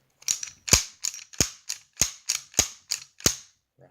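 Norinco NP34 9mm pistol slide racked repeatedly, nine sharp metallic clacks in a quick, even rhythm, close and crisp with no talking, followed by a faint final click.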